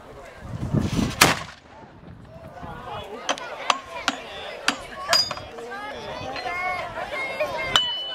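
A chamber gun (komorovka) fires a blank charge at a castle firearms demonstration: one huge, sharp blast with a rumbling tail, followed by a run of smaller sharp knocks and clatter as the crew reloads, with voices in the background.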